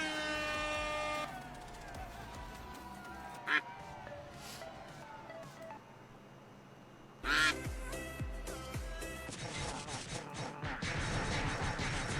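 Ducks quack a few times, sharp and fairly clear, amid a busy, cluttered mix of background noise and tonal sounds that swells louder toward the end.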